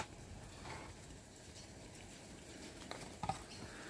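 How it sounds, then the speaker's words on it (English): Rain begins falling outdoors as a faint, steady patter spread evenly across the whole stretch, with a few small taps near the end and no one speaking. "Now it has begun to rain."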